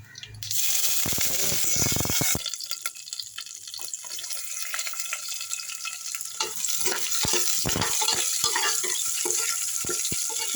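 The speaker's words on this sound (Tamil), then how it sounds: "பூண்டை நல்லா வறுத்துங்க" Garlic fries in about 50 ml of oil with mustard seeds and fennel for Hyderabad-style garlic rice, giving a loud, continuous hiss and crackle close by. Stirring clatters alongside, with a brief watery rush near the start.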